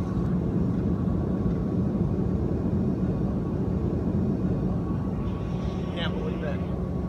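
Steady loud cabin roar inside an airliner on approach to Hawaii, a constant low rumble filling the whole stretch, with people talking over it.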